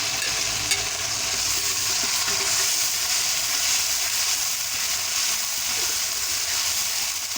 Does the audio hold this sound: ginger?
yes